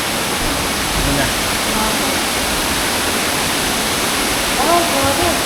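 Ubot Falls waterfall in Villa Aurora, Maria Aurora, Aurora Province, a steady broadband rush of falling water filling the whole clip, loud and constant, with faint voices briefly audible near the end.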